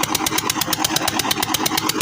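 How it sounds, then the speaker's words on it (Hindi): A diesel-powered tubewell engine in a village runs steadily close by, with a fast, even chugging pulse and a rattly mechanical clatter over a low rumble. "ये डीजल से चलने वाला ट्यूबवेल है जी"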